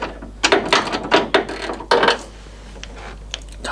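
A socket wrench works on the front windscreen bolts of an MGB, giving a burst of close, dry ratcheting clicks in quick clusters, then a few faint isolated ticks in a quiet room.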